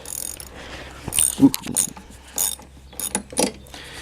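Mechanical clicking of a socket-set ratchet wrench being switched and turned the other way, with several short close ratchet bursts and clicks, no talking.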